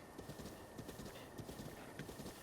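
A horse at a stable in Breath of the Wild clip-clops with a soft, steady hoof rhythm, quiet and close, over a faint game ambience.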